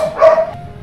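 A dog gives a single sharp bark midway through, close and fairly loud, set against a quiet indoor background during a tense conversation.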